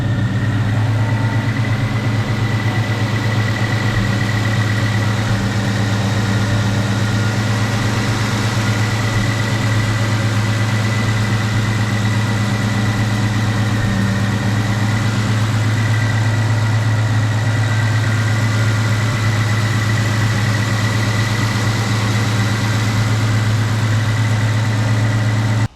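A Ford Foxbody with a Terminator engine swap runs on a dyno, a loud, steady engine drone with a deep low hum and constant whining overtones, unchanging for the whole stretch, with no talk.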